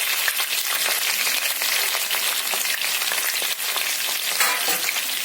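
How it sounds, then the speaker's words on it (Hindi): Sliced onions frying in a pan for a green chilli chicken dish, a loud, dense, continuous sizzle with scattered pops and crackles, no talk. "गोल्डन ब्राउन होने तक फ्राई करेंगे इसको।"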